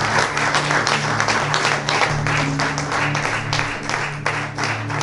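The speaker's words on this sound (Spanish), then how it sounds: "Un aplauso fuerte al Señor." A church congregation claps loudly in praise, a dense, energetic burst of applause with a steady low hum of sound system or organ beneath it.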